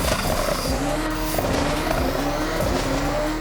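A car engine roars steadily with tires hissing and squealing on the road in Forza Horizon, loud and close throughout with no talk.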